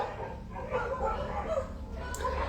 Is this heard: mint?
no